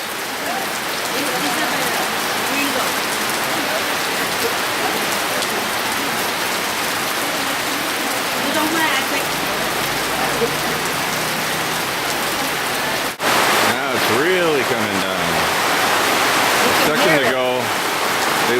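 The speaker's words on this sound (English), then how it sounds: "Raindrops keep falling on the roof." Steady heavy rain patters on a roof overlooking rice terraces, a dense continuous hiss with a few brief knocks and shifts near the end.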